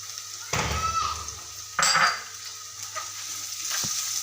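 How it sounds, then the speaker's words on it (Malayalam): Crushed garlic, ginger and curry leaves stir-frying in a pan for a traditional river fish curry, a loud burst of sizzling as they go in, then stirring scrapes over a continuous hiss. "ഇനി ഇതിൻ്റെ ഈ പച്ചമണം ഒന്ന് മാറുന്ന വരെ ഒന്ന് നന്നായിട്ട് ഇളക്കി കൊടുത്തുകൊണ്ടിരിക്കണം"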